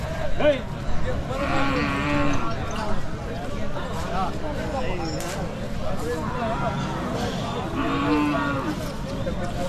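Hallikar cattle moo repeatedly at a Sunday cattle market, several low calls scattered across the scene, amid people talking and general crowd noise.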